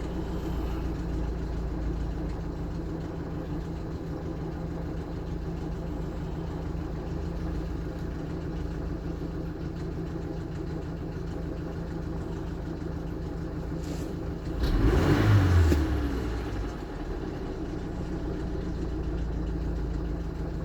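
A Mazda CX-7 2.3 turbo petrol engine with about 170,000 km idling after a cold start, a steady low mechanical drone throughout, with a brief louder rustle and thump partway through before the even idle resumes.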